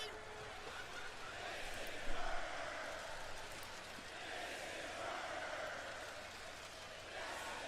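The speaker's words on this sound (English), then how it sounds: "the crowd is chanting, "This is murder."" A wrestling arena crowd at AEW All Out 2024 chants in rolling waves, heard distant and muffled under room noise, with one brief louder burst near the middle.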